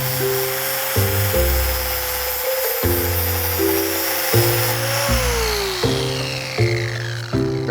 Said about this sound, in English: Good thing we have electricity so I can use my angle grinder.